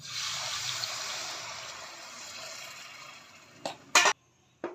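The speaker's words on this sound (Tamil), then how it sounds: "தண்ணி சேர்த்துட்டு நான் கிண்டிக்கிறேன்" Water pours in a steady stream into egg gravy in a cooking pan, fading gradually, followed by a few short clinks or taps near the end.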